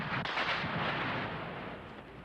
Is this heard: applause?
no